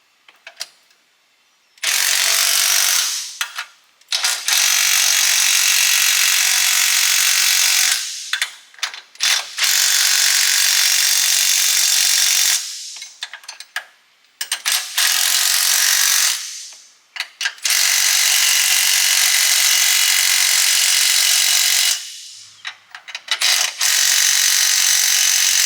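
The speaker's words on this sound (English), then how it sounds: "Then we're going to snug down these U-bolts and then we're going to torque everything." A ratchet tightens the U-bolts on a Synergy dual steering stabilizer kit in quick, loud clicking bursts. Each burst is separated by short pauses while the tool is reset, and no one speaks.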